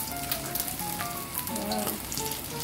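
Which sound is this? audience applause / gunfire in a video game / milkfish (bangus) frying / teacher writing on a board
milkfish (bangus) frying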